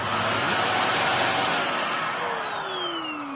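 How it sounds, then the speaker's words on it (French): A FEVORCS cyclonic UV mattress mite vacuum cleaner running at a loud, steady roar with a high whine whose pitch slowly drifts downward, no voices present. "il est relativement bruyant car c'est un aspirateur cyclonique"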